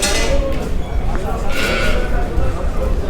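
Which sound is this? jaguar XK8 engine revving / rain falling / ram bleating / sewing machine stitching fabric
ram bleating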